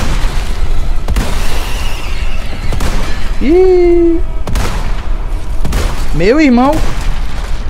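Rifle shots in Resident Evil 4 Remake crack out four times at uneven intervals, each a loud, abrupt report, while someone shouts excitedly between them.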